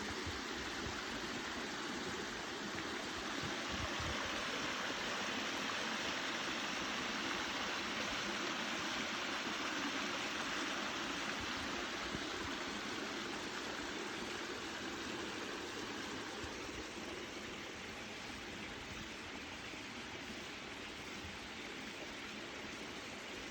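A creek and waterfall in Big Canoe, Pickens County, Georgia rush steadily, a constant broadband roar that stays even and unbroken for the whole stretch.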